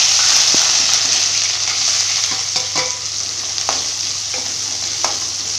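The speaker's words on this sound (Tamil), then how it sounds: "இப்போ வந்து நம்ம கட் பண்ணி வச்சுருக்க வெங்காயம், இஞ்சி பூண்டு விழுது, கருவேப்பிலை எல்லாமே போட்டுக்கலாம்." Chopped onions, ginger garlic paste and curry leaves frying in hot oil for a meal maker fry, a steady loud sizzle with occasional spoon stirs and clinks.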